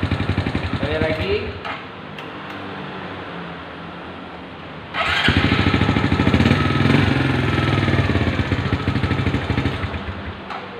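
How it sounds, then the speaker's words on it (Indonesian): A motorcycle engine is started with its electric starter on a workbench during starter-circuit testing, then settles into a loud, steady running idle after a quieter opening stretch, with a person speaking over it. "Oke, starter hidup, posisi sudah kita pasang semua."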